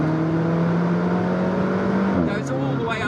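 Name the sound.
Alfa Romeo 4C accelerating with turbo in second gear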